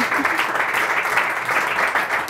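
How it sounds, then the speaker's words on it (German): A studio audience at a German talk show claps continuously, a dense steady wash of applause that holds at one level for its whole short length. "Ja, Sie dürfen ruhig auch nochmal klatschen."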